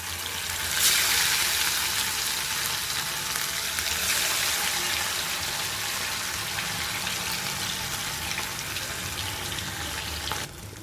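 Marinated fish pieces frying in oil over a medium flame hiss and crackle in a loud, steady sizzle that holds throughout, with a brief flare near the start and a small clatter near the end.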